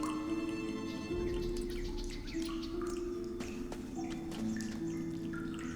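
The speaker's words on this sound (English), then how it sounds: "I have some water dripping." Water drips in a dim dungeon area of the Gothic Remake demo game, a few faint, sparse plinks over a steady low ambient drone, with no talking.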